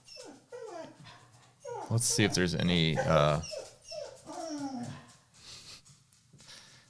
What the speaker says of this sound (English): my dog is very sad. She's crying.